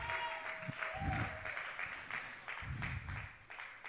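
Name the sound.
congregation applauding for the Lord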